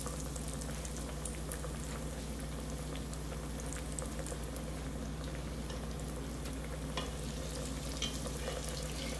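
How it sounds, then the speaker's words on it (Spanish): Chickpea croquettes stuffed with shrimp and cheese fry in hot oil, giving a steady, dense sizzle and bubbling that holds evenly throughout, close and unbroken, with no talking. "lo vamos a colocar en aceite caliente"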